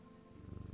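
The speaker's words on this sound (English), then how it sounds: "And let's pet the kitty." A cat purrs as it is petted in the video game Strange Antiquities, a short, close, rumbling purr that swells steadily louder, heard alone without voices.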